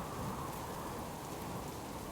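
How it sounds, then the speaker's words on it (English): Rain in the survival video game Subsistence, a dense, steady hiss of downpour with a low rumbling undertone, continuous and close, with no voices. "because the rain is just going to put it out."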